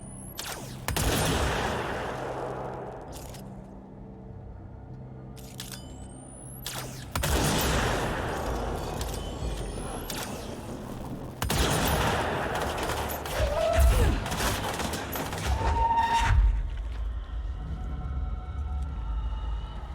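Sniper rifle gunfire in the video game Control: several loud, sharp shots spaced a few seconds apart, each with a ringing tail over a rumbling game background, with no talk.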